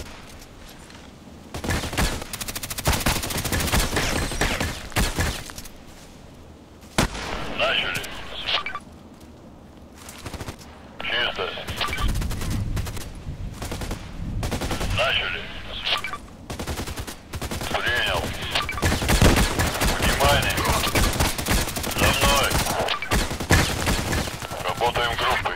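Rifle fire in the video game Contract Wars, with repeated bursts of shots and dense, sustained gunfire across the clip, loud and close, while someone talks intermittently over it.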